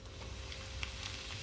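Flattened rice (poha) fries in very hot oil, a dense continuous sizzle with soft stirring scrapes throughout the brief moment, close and steady.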